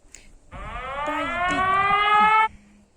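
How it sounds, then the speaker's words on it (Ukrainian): An air raid siren sounding a ballistic missile alert starts abruptly, holds a loud rising wail with strong harmonics for about two seconds, then cuts off, with faint background noise around it. "Ой, знов сирена тривога, балістика."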